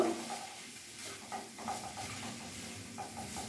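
Mutton liver frying in a pan over a raised gas flame, a low steady sizzle and hiss with soft scraping as it is stirred.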